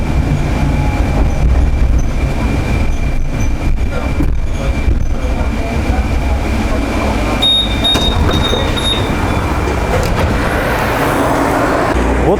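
A Yevpatoria tram car turning around at the terminus, a loud steady rolling rumble of wheels on rails with brief high squeals from the wheels on the curve, heard from inside the car.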